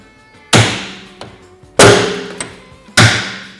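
A hammer strikes a 19mm socket set on the steering wheel nut of a Polaris RZR. Three sharp, loud metallic blows land about 1.2 seconds apart, each ringing briefly, with a faint tap between them.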